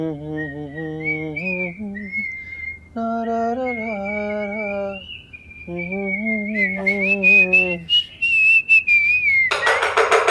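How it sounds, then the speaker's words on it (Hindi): A person whistles a bright, sliding melody alone, the tune rising and falling in long phrases while another voice hums low sustained notes underneath, ending with a brief noisy burst. "एक सीटियां बजा रहे और दूसरा गुनगुना रहा है"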